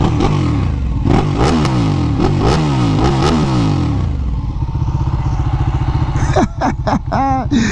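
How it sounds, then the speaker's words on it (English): A Ducati Panigale motorcycle engine, already warm, idles loudly with a rough, throbbing burble, then revs up sharply several times in quick bursts. "let's give y'all some revs"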